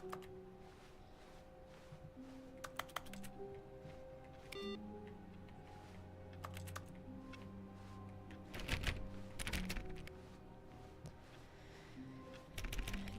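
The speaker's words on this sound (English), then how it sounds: "I like how when you click though, it's like a typing sound." Clicking in The Stanley Parable game produces keyboard-typing style clicks, a series of short sharp taps scattered irregularly over a steady low background hum, loud and close.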